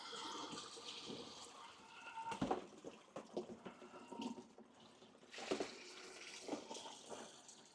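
Water poured and dumped out of an OASE BioMaster Thermo 850 aquarium canister filter, faint sloshing and splashing in a few uneven surges over several seconds, with no talking.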